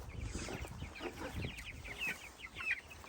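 Backyard chickens kept in a chicken tractor cluck softly and repeatedly at close range, short chirpy calls over light outdoor background noise.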